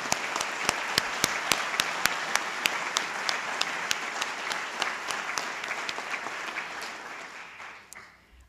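Sustained, dense applause from a ceremony audience honoring recipients of the 2014 North Carolina Governor's Award for Excellence, holding steady with a few sharper claps before tapering off near the end.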